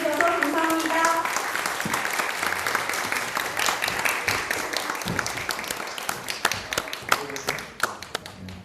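Audience applause at a Korean-language speech contest for migrants, held by a church mission group, fills the whole stretch as steady, dense clapping, with scattered individual claps standing out near the end as it thins.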